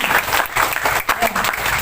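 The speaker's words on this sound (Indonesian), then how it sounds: "Tepuk tangan dulu untuk ini" Short burst of dense crowd applause at a health outreach gathering, loud and continuous for under two seconds.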